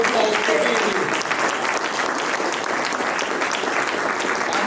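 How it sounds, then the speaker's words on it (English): Steady, dense applause from a large gathered audience at a community lecture hall, sustained loudly for the whole span with a brief tonal murmur early on. "Give yourself again a round of applause for being here"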